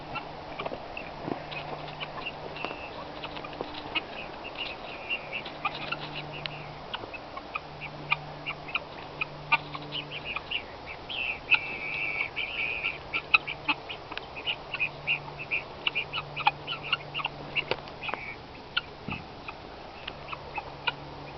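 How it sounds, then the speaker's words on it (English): Guinea hens call from a short distance, repeating harsh, rhythmic cackles over a faint outdoor background, with scattered clicks and rustling as the flock moves. "I'm going to get closer to those guinea hens."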